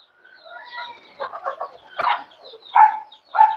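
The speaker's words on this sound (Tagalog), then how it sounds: "Ayan po mga manok natin." Several chickens cluck and chatter close by, a string of short overlapping calls ending in two louder squawks.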